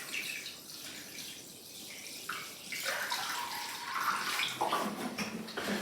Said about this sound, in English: And we just need to add some water to our dish.